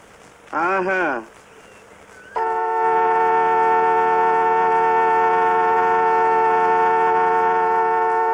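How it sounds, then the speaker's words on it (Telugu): A voice is heard briefly, then a loud car horn blares in one long, unbroken blast lasting several seconds. "హార్న్ కొడుతుంటే వినిపించట్లా?"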